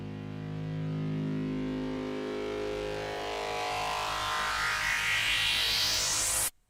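Detuned synth sub bass note held in the low register with a macro turned up over time, a sustained thick drone that brightens and swells gradually before cutting off abruptly, fairly quiet.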